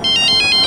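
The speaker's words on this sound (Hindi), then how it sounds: "सर, गोविंद खबरी का फोन" A phone ringtone plays loud and close, a brief bright repeating electronic trill of rapid pulsing tones.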